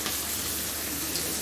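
Onion, cumin and bay leaf sizzling in hot oil in a home kitchen pan: a steady, close, crackling sizzle holding even throughout, with no talk.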